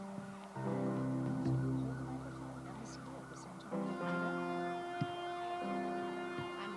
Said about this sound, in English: What key was that siren in?